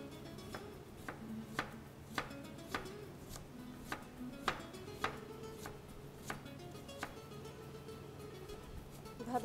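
A knife chops onion on a cutting board in steady, evenly spaced strikes, fairly quiet against a faint background hum, with no talking.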